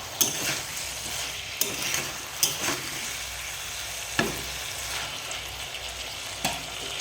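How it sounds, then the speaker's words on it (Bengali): Spices for a shol fish curry with drumsticks and potato are sautéed in a pan. Steady sizzling runs under sharp scrapes and taps of a stirring spoon striking the pan at irregular intervals. "এবার ভালো করে কষে নেব দু মিনিট মতো"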